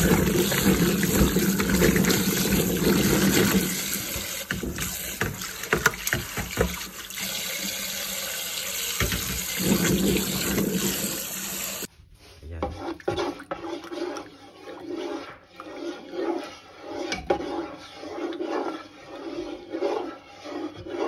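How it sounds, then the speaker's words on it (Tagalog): Taro being washed in water, running tap and splashing loud for the first half, then softer sloshing and handling sounds continuing close by. "Hugasan muna natin siya bago natin salang."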